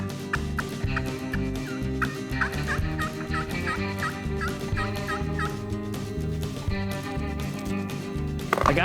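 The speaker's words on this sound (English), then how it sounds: "the only birds gobbling that I could find seemed to be on land I couldn't hunt" A wild turkey gobbles in the Appalachian highlands, its rattling gobble repeating in rapid bursts over a busy outdoor background, fairly close and clear.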